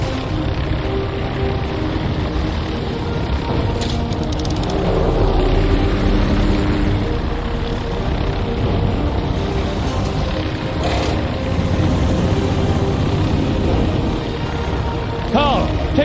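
Aircraft in flight in the video game Jack Keane 2, a steady droning engine hum running throughout under a moderately loud background, with brief clicks and louder swells.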